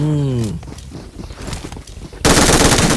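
Gunfire in the mobile game PUBG Mobile, a rapid run of sharp suppressed shots after a brief tone, followed by a sudden loud, dense burst of noise near the end.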